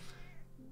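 A single short cat meow in the video game The Wolf of Derevnya, close and fairly quiet over faint background ambience, rising then trailing off.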